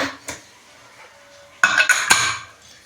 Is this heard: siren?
no